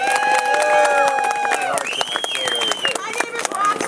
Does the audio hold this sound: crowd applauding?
yes